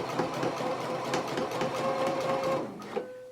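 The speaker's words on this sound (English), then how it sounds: "So let's go ahead and stitch down this facing right along this inner fold now" A sewing machine runs steadily, stitching a jacket facing down along its inner fold, with a rapid mechanical whir and needle clatter close by before it slows and stops near the end.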